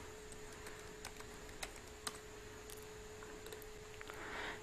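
A name typed on a computer keyboard, a few sparse soft key taps over a quiet steady hum.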